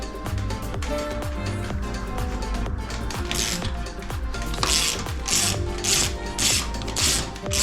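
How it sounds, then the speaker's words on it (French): Quick clicking ratchet strokes from a tool unscrewing a mountain bike wheel axle, repeated ratcheting bursts with metallic mechanical rattles, close and clear with no talking. "On va dévisser l'axe jusqu'au bout"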